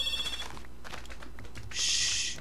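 A phone goes off in a room during casual play, giving a bright electronic ringing tone in short bursts at the start and again near the end, fairly close and moderately loud.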